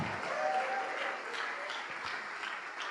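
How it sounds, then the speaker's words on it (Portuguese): Church congregation clapping briefly after a Portuguese-language sermon, a short steady burst of applause at moderate level with faint background tone. "Oh glória, vamos aplaudir"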